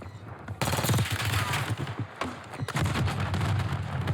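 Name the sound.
gunfire in the Warzone video game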